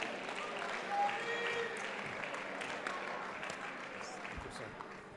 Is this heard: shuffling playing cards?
no